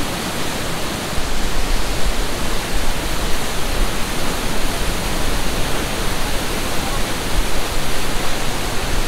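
A waterfall on a mountain road in Meghalaya, India roars as a loud, steady broadband rush of falling water that holds unbroken throughout.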